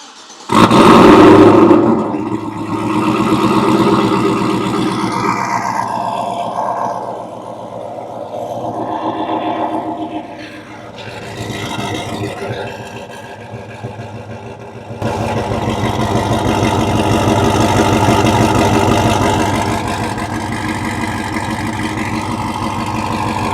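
A modified vehicle engine fitted with a Whipple supercharger, roaring loud at first, then settling to a rough idle before swelling again, deep and close with no speech.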